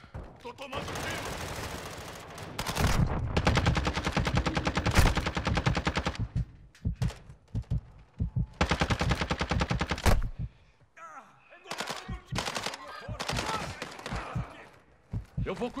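Warzone 2.0 DMZ gunfight with repeated bursts of automatic gunfire, loud and close, coming in uneven volleys separated by brief gaps, with players shouting and talking between and over the shots.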